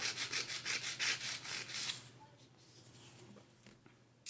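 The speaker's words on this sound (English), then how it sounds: "then you can go about your normal filing and shaping" An acrylic nail is filed and shaped with quick, regular rasping strokes, close and fairly loud for about two seconds before fading to quieter scattered scraping.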